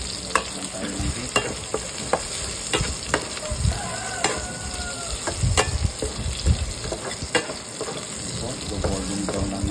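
Garlic fries in a pan for a home-style pork steak, a close, steady sizzle with sharp utensil taps and scraping stirs at irregular intervals, with no talking.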